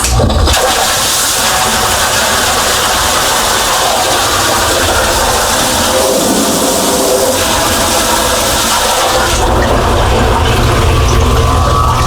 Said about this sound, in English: the pump is circulating it not only through here, but through those nozzles down in the bottom, and it's churning the water to keep the media suspended